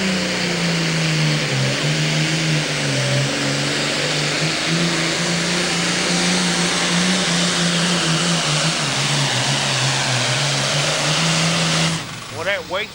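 A Super Farm pulling tractor at the 2008 NTPA Grand Nationals in Brandenburg, Kentucky, its engine screaming at high RPM in a loud sustained drone with a wavering pitch as it runs down the track, then cutting off abruptly near the end.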